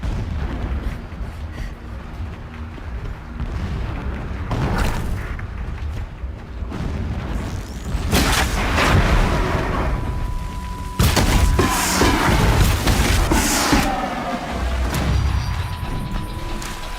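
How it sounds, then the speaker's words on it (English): Distant explosions in a video game's outdoor landscape, dull booms and rumbles rolling over a constant low mechanical drone, with several heavier impacts building in the second half and no talking. "explosions in the distance."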